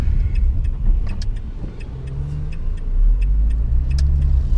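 A car drives along a road on the way to work, heard from inside. The engine and tyre rumble is low and steady, with a few light clicks and rattles over it.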